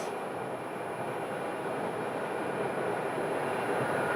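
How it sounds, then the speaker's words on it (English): A jet airplane taxis toward runway 26 at Phoenix airport, heard as a steady, far-off engine roar with a thin high whine held level throughout. "They are taxiing to the end of runway 26"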